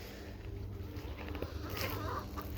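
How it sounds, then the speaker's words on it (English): Backyard garden chickens clucking softly and intermittently, faint and fairly close, over a steady low background hum. "There's Mariah being Mariah, feeding the chickens."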